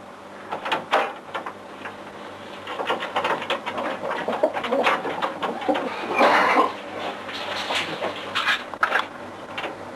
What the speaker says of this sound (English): Fifteen pairs of stock birds inhabit the breeding loft.